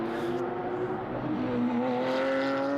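Porsche GT3 Cup race cars at Spa in 2014, with steady loud engine drone and rising whine as cars hold speed through a corner, mixed into broadcast audio.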